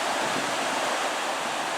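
Steady broadband rush of a river flowing beside a mountain base camp in the Wind River Range, a continuous close, loud wash of water with no voices.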